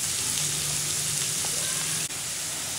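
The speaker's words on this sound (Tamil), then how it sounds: "வெங்காயம், பச்சை மிளகாய், கருவேப்பிலை போட்டுக்கலாம். கொஞ்ச நேரம் வதக்கலாம்." Onions, green chillies and curry leaves sauté in a pan, a short, steady, hissing sizzle heard close and alone.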